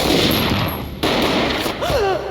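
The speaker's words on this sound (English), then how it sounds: "A gunshot boomed and she fell down in slow motion." A gunshot booms in the video game Max Payne, a loud dense blast with a sharp break midway, followed by a short rising and falling tone.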